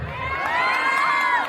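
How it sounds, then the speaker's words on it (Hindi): An audience at a hasya kavi sammelan comedy poetry show cheers loudly with overlapping shouts and whoops, a brief, dense burst of crowd noise. "हरियाणा वालों के लिए तालियां बजा दो भाई"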